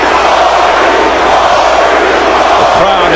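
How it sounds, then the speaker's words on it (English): Dense, roaring arena crowd cheering for hometown favorite Cory Spinks at a boxing match against Zab Judah, a loud continuous swell with voices mixed in. "Crowd exhorting"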